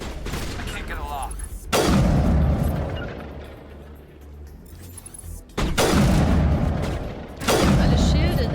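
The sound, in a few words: gunfire and explosions in the video game Mass Effect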